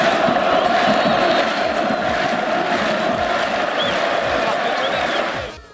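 A packed football stadium crowd of MC Alger supporters, a dense continuous roar of cheering and chanting with rising whoops, loud and sustained before fading at the end.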